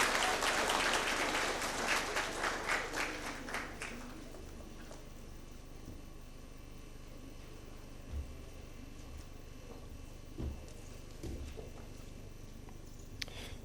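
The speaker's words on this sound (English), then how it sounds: "Let's welcome him with a huge round of applause." Audience applause welcoming the chairman to the podium at a college commencement ceremony, a dense burst of clapping for about four seconds that quickly fades into a quiet hall with faint hum and a few soft thuds.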